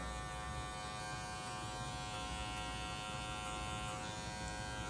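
Electric hair clippers with a low number-one guard buzz steadily while cutting a fade in curly hair, a constant close motor whine with no talking.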